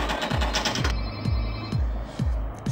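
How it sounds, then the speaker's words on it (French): A telephone rings in quick repeated trills, a steady pulsing bell pattern that fills the short moment and runs loud and close throughout. "la sonnerie vient de s'arrêter"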